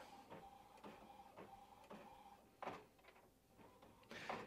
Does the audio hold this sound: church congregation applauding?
no